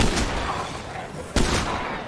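Heavy rapid gunfire blasts at enemies in a shooter game, two dense loud bursts separated by a brief dip, with no pause in the racket.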